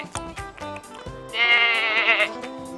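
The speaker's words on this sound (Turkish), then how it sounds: "Ve bu da bir keçi." A goat bleats in a long, wavering cry that rises from a short stretch of voice-like sounds and fades out at the end.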